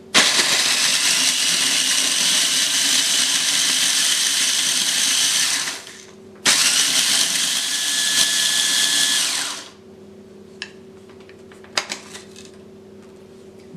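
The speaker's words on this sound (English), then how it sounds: "grind until the crackers are completely crumbled" A mini food processor grinds crackers into breadcrumbs for breaded beef steak, running as a loud, steady whir for about six seconds, stopping briefly, then whirring again for three more before a few faint clicks.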